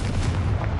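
Confringo blasting spell exploding in the video game Hogwarts Legacy, a single loud, short, booming burst heard alone.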